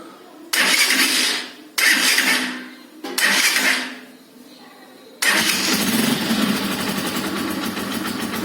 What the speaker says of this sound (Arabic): يلا نسمع صوت الموتور لاول مره